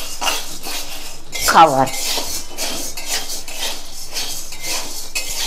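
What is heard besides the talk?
stirring sago pearls in a wok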